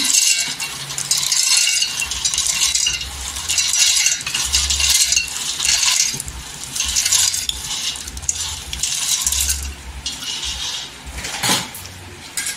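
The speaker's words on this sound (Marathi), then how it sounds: "इथे मिक्सरच्या भांड्यामध्ये शेंगदाणे घ्यायचं" Raw peeled peanuts poured into a steel mixer grinder jar, giving a steady rattling, clattering patter of nuts hitting metal that continues for several seconds with brief pauses.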